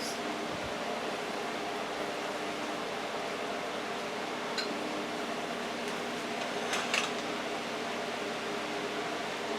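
An air fryer cooking Italian sausage, its fan holding a steady broadband whir for the whole stretch, fairly loud and even, with a couple of faint clicks near the end and no talk.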